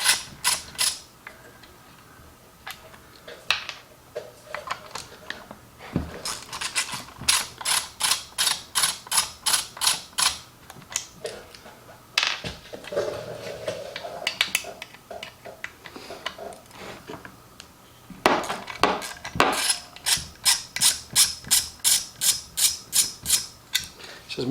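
Screws being worked loose on the carburetor of a Husqvarna 262XP chainsaw, heard as close, rapid ratcheting clicks in repeated bursts with short pauses between them.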